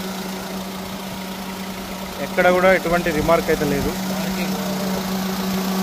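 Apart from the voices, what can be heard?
Toyota Etios Liva engine idling with AC fan running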